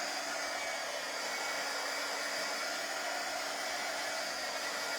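A hair dryer blows steadily on a T-shirt to dry freshly applied ink, a constant close airy roar with a faint steady hum, running unbroken throughout with no talking.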